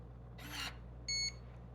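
A Tactical Traps fingerprint lock emits a single short, clear electronic beep up close, preceded moments earlier by a soft rustle.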